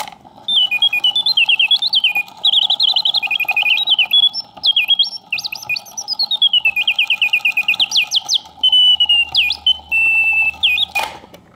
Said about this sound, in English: a vintage Karl Griesbaum singing bird box that's been fully serviced and works perfectly